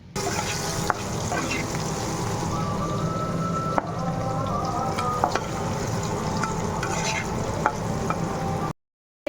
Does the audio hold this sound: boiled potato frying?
yes